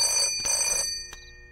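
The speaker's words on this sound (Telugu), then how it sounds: "మీ వాడెవడో పొద్దున్న నుంచి ఫోన్ చేస్తున్నాడు" A telephone bell rings in loud electronic bursts, two long trills followed by a short one, close by with no talk over it.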